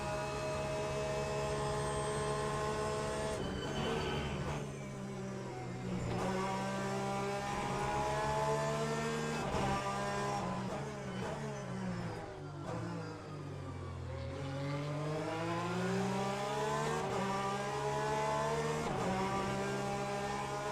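A Ferrari race car in the Le Mans Ultimate racing game revs hard and climbs through its gears, its loud engine whine rising, dropping at each shift and building again over about twenty seconds, with no voices.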